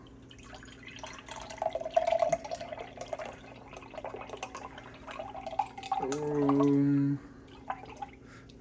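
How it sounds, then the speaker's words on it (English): About eight ounces of bone broth is poured into a cup in a brief, steady liquid stream lasting around a second, after a person talks over faint kitchen sounds. "all I do is I pour this into a cup"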